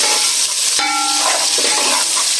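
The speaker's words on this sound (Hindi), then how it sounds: "इसमें मैं ये जो 2 मीडियम साइज़ की प्याज थी वो ऐड कर दूँगी और इसको जो है फ्राई कर दूँगी" Two medium onions fry in hot oil with whole spices, giving a loud, steady sizzle that fills the whole stretch, broken by a single metallic clank of a spoon against the pan.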